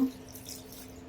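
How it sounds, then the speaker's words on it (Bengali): A little water is poured into a pan of bottle gourd greens seasoned with salt, a brief, soft splash and trickle lasting about a second against a faint background hiss. "অল্প একটু পানি দিয়ে দিব"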